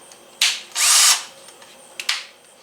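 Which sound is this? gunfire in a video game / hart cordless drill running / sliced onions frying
hart cordless drill running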